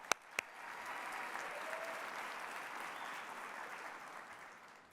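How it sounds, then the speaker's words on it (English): Audience applause at a healthcare technology conference keynote, a steady wash of many hands clapping that swells after a couple of sharp nearby claps and holds evenly for several seconds before easing off, with no talking. "Let's give them a round of applause."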